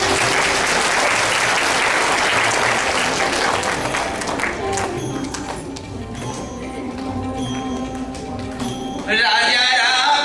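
Audience at a Bhagavat katha at Haridham Mandir claps loudly and densely, a broad wash of applause that thins in the middle and swells again near the end, with a brief tonal instrument note entering.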